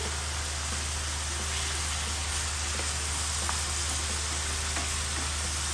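Small fish and jute leaf curry sizzles in a pan over medium heat while being stirred, a steady close hiss with faint scraping touches throughout.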